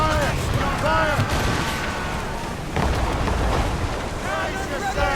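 Naval cannon fire during a ship battle in Assassin's Creed Rogue, a continuous rumbling din of heavy booms and crashing impacts, with shouted voices of the crew over it.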